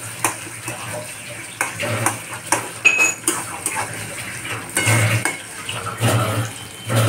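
Metal spoon scraping and stirring in a pan as eggplant bharit cooks with onions browning, giving a steady run of close clinks and scrapes over a soft sizzle, with no talking.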